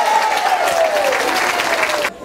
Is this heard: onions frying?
no